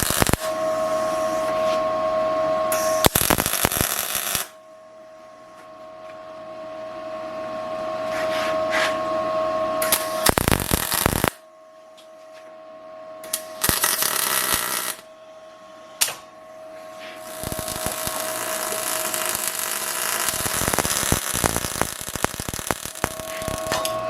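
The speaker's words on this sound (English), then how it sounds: "let me clean that up and weld these plates on" Welding steel plates onto a Harbor Freight engine stand: several bursts of steady crackling and buzzing welder noise, close and loud, separated by short quiet pauses.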